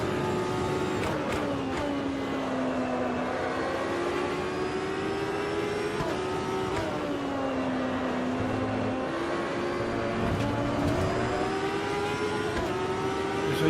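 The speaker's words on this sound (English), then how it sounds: "Just eased off the throttle and ran wide there as Kewan makes a mistake." A racing car engine drones close by during a race, its pitch sagging and rising as the throttle is eased off and reapplied, with brief higher spikes over a steady mechanical hum and no voices.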